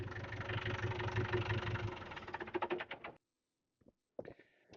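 A tractor engine, used with a snow blower, idles with a steady, throbbing chug, then sputters and cuts out as it is shut off, followed by silence and a couple of faint knocks.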